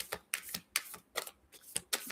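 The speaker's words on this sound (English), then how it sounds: "Take another shuffle." Tarot cards shuffled by hand in a run of crisp riffling bursts, about six quick papery flurries in two seconds, close and fairly quiet with no talking.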